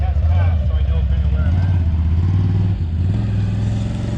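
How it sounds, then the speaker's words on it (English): A vehicle fitted with an RJWC Krossflow exhaust passes at about 30 km/h on a closed course, its engine note a steady, loud, throaty drone with low rumble and slight clatter throughout. "now we're going to do a drive-by around 30K an hour on a closed course with a professional driver"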